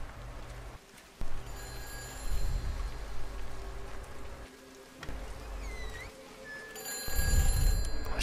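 Telephones ringing in the video game Everybody's Gone to the Rapture: repeated electronic ring bursts, fairly faint and spaced apart, over a patter of rain-like ambience with low rumbling swells.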